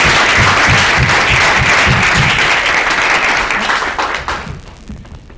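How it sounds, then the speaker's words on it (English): A roomful of people at a hackathon event in Toronto applauds loudly, the clapping dense and sustained before tapering off and fading out over the last second. "So big round of applause to not just us but to everyone in this room"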